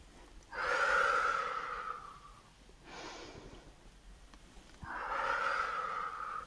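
Slow, deep breaths during a gentle beginner morning stretching routine: two long airy inhalations or exhalations with a softer one between, close and alone with no talking.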